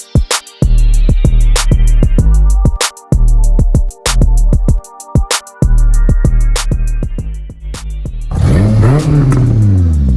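A Honda car engine revs hard with loud, repeated bursts and a sustained roar as it is driven under its own power after a long lay-up, closing with a rising whoosh near the end.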